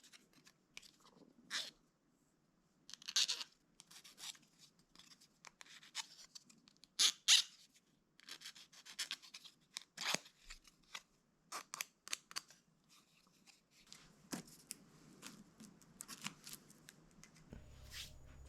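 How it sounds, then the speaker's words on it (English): Fine-tooth file rasping burrs off the outside corners of aluminum sheet, in short, irregular scraping strokes with brief pauses between them, close and fairly quiet. "I actually get a fine-tooth file to go ahead and finish off these outside corners to remove the burrs there"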